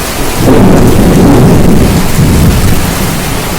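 Heavy rain pours down steadily through a thunderstorm while deep, loud thunder rumbles continuously underneath, with no voices.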